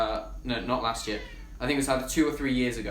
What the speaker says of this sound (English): Sorry for that noise in the background if you can hear it. That's my cat.